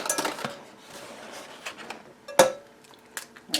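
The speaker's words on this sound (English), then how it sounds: "Crack them in a mixing bowl." Six large eggs cracked one after another into a mixing bowl: a few sharp, separate taps and shell clicks with brief gaps between them, close up and fairly quiet, with no voices.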